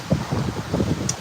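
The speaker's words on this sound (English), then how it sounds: "It is windy" Wind blowing hard outdoors, kicking up sand, a steady low rushing roar with gusty buffeting against the microphone throughout, no talk over it.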